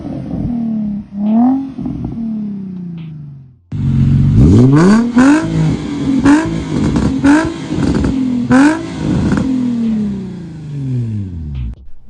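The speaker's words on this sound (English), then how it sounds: "I'll put in an exhaust clip of my car after the test pipes." A Nissan 350Z fitted with Burke test pipes idles, then its exhaust barks through a series of sharp revs rising and falling, loud and close, with no talking.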